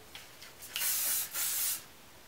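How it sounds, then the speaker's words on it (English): Two short hissing bursts from a spray bottle of hair product sprayed onto hair, close and fairly loud, with faint rubbing before them. "I just spray like the entire hair pretty much down to here"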